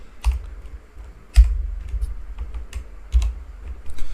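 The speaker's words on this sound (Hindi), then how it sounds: "तो फिर से मैं इस कैप्चा को एंटर कर देता हूँ।" Keys on a computer keyboard are tapped while a captcha is entered during an online registration form, with scattered, uneven keystrokes and a few firmer presses in a quiet room.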